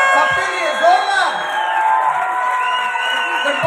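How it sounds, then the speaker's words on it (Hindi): A crowd cheers and whoops loudly at a director recognition ceremony at Go Crown 2022 in Pune, the excited voices steady and close throughout. "सबके लिए ताली बज रही है"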